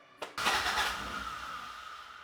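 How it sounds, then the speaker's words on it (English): A Toyota Corolla AE86 GTS engine starts after a brief crank, catching with a sudden rise into a rough, loud idle that settles to a steady hum close by. "we're gonna go ahead and jump on this car and make it a successful lap around the block"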